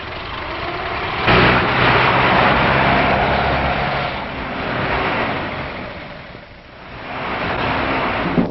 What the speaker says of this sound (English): And there's plenty of speed at an auto race